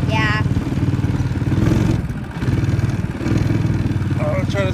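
Go-kart engines on a raceway track, a loud, close buzzing motor held steady with brief dips and swells in pitch as the kart runs, with a voice briefly heard over it.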